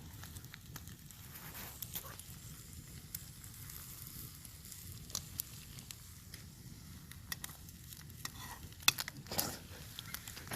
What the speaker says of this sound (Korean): 지금 장작 저희가 나무를 계속 꺼내가지고 불이 아주 잘 타고 있고요.